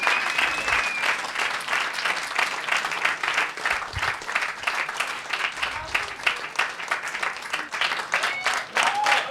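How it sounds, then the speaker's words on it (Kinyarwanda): An audience at a comedy show gives sustained, loud applause with many hands clapping in a dense, rhythmic roar, occasional cheers and whistles rising above it throughout. "Mubanze mukoma amashyi menshi"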